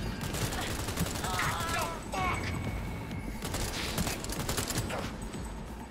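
Automatic gunfire in the video game Cyberpunk 2077 rattles in dense, continuous bursts amid loud chaotic combat noise, with voices talking over it.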